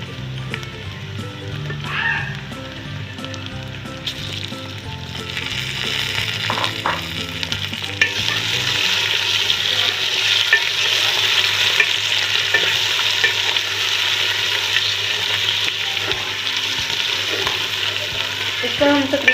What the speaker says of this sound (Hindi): अब मैं इसमें डाल देती हूँ चिकन। उसको हम थोड़ी देर फ्राई करेंगे।